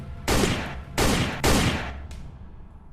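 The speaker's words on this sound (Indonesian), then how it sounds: "si pangeran masih mempunyai senjata dan langsung menembak 3 kali di kepalanya" Three loud gunshots fired in close succession, evenly spaced about half a second apart, followed by a fainter fourth report as the echoes fade; no voices.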